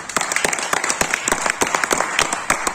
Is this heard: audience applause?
yes